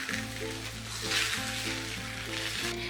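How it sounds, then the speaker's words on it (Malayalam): Wheat and egg paratha batter sizzles on a hot iron pan over a few drops of oil, giving a steady, quiet crackle with faint rhythmic background hum and no voices. "ഇതിന് പുറത്തേക്ക് നമുക്ക് പരത്തി വെച്ചിരിക്കുന്ന മാവ് ഒഴിച്ചു കൊടുക്കാം."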